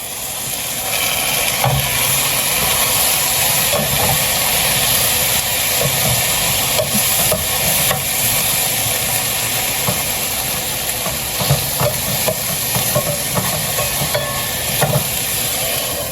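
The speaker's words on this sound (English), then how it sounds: "I'm just waiting on this chicken to cook" Chicken cooking in a pan for a meal prep, a steady broad sizzle and hiss of frying with occasional stirring clatter, continuous and close throughout with no talking.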